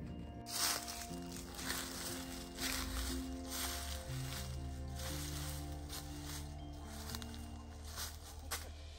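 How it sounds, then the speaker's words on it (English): A low, steady tractor engine drone hums in the distance throughout on a Portuguese farm, with faint outdoor rustling and soft footsteps close by. "Can you hear the tractor in the background?"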